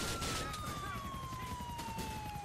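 A police car siren wails in GTA IV multiplayer, a steady gliding tone sounding continuously over engine and game noise.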